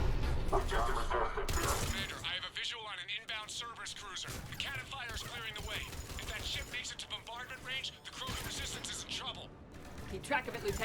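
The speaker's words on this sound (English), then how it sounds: "The cannon fire is clearing the way" Cannon fire from Cerberus cannons during a space battle in Mass Effect 3, repeated heavy bursts and mechanical clatter scattered through the scene, mixed with music and other game effects.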